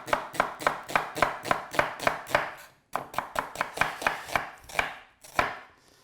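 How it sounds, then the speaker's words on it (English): Knife chopping an onion on a board, a quick even series of sharp close thuds, a brief pause, then another run that slows and thins out at the end. "So you chop your onion."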